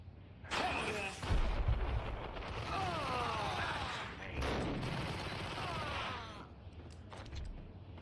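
Gunfire in the video game Max Payne roars in a loud, sustained barrage of dense blasts that fills nearly the whole stretch before tailing off at the end.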